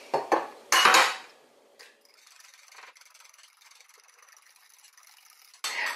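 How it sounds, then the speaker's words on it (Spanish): Two eggs beaten with a utensil in a bowl for a tortilla-pizza, a few sharp clinking strikes at first, then a lighter rapid ticking of whisking, close and alone. "voy a batir los 2 huevitos"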